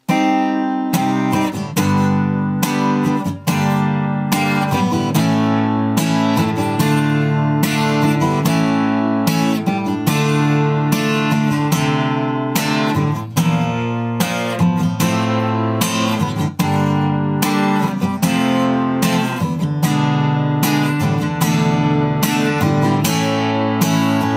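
An electric guitar plays a steady, continuous passage of chords and notes from a song, loud and close, with no talking.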